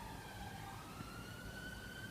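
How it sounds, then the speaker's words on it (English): Emergency vehicle sirens wail steadily in the background of an Edinburgh street, continuous and moderately distant, with no talking over them. "Sorry for the sirens in the background."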